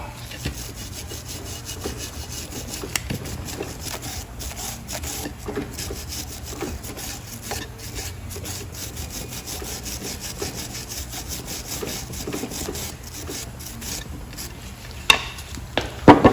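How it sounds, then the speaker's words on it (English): A wire brush scrubbing rust off steel brake caliper brackets, a harsh, rapid back-and-forth scraping that runs loud and close throughout, with a few sharp knocks near the end. "Sometimes you literally have to get a file in here to clean these up, to get it so your brake pads are going to slide easy. So wire brush these up."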